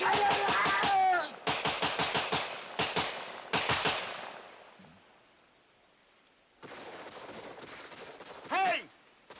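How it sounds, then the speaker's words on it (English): Soldiers open fire in a 1958 wartime film battle scene: loud bursts of rapid automatic gunfire in several volleys, a lull, then renewed close firing with a brief whining tone near the end. "Will you quit shooting?"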